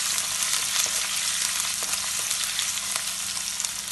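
Garlic and ginger frying in hot oil in a pan for mutton curry, a steady loud sizzle with occasional stirring scrapes and crackles throughout, no voices.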